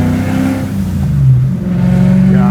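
A supercharged V8 swapped into a BMW E30 revs hard, its deep engine note rising and falling loudly and close by with no voices.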